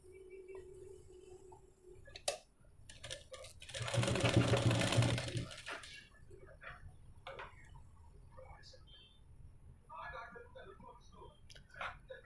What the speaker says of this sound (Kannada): ಅದಕ್ಕೆ ನೀವೇನು ಮಾಡಿ ಈ ಥರ ಸ್ಟಿಚ್ಚನ್ನು ಹಾಕೊಂಬಂದ್ಬಿಡಿ